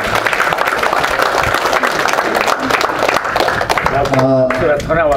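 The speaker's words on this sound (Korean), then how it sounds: "여러분 다시 한번 큰 박수 부탁드립니다." An audience at a Korean 5.16 anniversary commemoration ceremony breaks into sustained, loud applause that fills the hall. A voice speaks over a microphone near the end.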